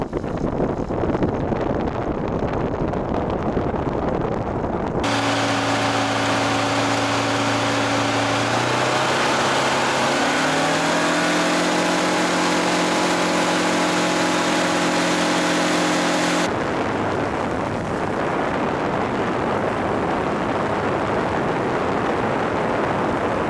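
Kitfox light aircraft engine taxiing at an airport, a loud steady drone whose pitch rises partway through as power increases, then cuts back to a duller rumble.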